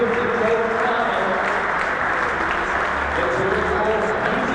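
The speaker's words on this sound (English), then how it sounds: "Round of applause for New Zealand." A crowd at the over-50 men's gold final of a world indoor cricket event applauds New Zealand with steady, dense clapping that fills the arena, while an announcer's voice carries over it.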